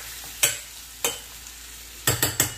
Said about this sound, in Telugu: ఈ వంకాయలు పెట్టుకున్నా కదండి ఇలా ఒకసారి వీటిని ఫ్రై చేసుకుంటాను